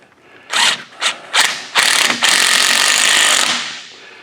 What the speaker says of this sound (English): So I'm going to snug them up with my little impact here.